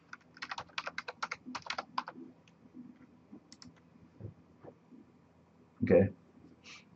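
Rapid typing on a computer keyboard as login credentials are entered, a quick run of close, crisp keystrokes followed by a few scattered taps and a louder knock near the end.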